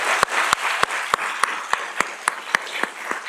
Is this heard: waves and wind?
no